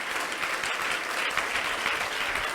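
Sustained applause from a church congregation during a sermon fills the space, a dense, even patter of many hands clapping at moderate distance throughout.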